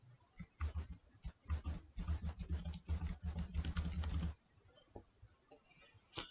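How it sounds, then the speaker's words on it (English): Rapid keystrokes on a computer keyboard, a quick burst of clicky typing for about four seconds, close and fairly loud, followed by a quieter pause with faint room noise. "you can open a new tab by pressing Ctrl T like this"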